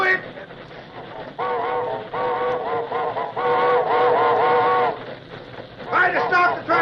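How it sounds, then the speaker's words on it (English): A steam train whistle blows in a radio drama set on a railroad trestle, with several sustained harmonic blasts that rise and cut off in sequence, close and loud, between snatches of voices. "Blow the whistle."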